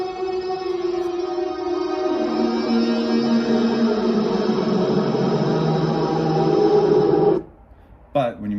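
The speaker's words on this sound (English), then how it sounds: "I always add a little bit of reverb to the solo" An electric guitar solo drenched in big reverb and echoes forms a dense, sustained wash of layered tones for about seven seconds, then cuts off abruptly, leaving brief quieter sounds at the end.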